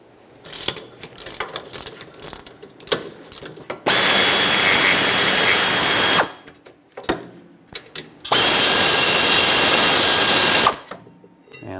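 A 17mm wrench breaks loose the brake caliper bracket bolts on the rear of a 2018-2023 Subaru Crosstrek, with a long steady ratcheting or power-tool whir running twice for a few seconds each, between shorter clicks and clatter.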